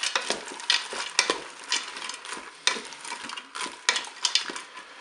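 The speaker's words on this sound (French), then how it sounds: "J'ajoute maintenant mes farfelles." Farfalle pasta tipped into a Cookeo pot with beef meatballs and stirred, giving scraping and clattering spoon strokes over a soft sizzle in an irregular rhythm, close and moderately loud.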